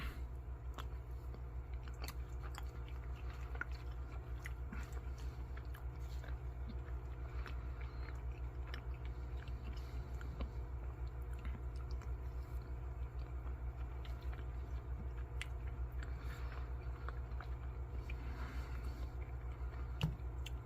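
Close, quiet chewing and biting of chili mac with beef and noodles, soft repeated mouth sounds and faint crunches over a steady low rumble, with no talking.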